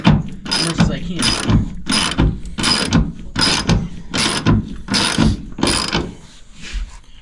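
Ratchet tightening seat bolts while installing Jeep YJ seats in an old Chevy truck: about ten loud, close bursts of rapid clicking in an even rhythm, each followed by a short pause.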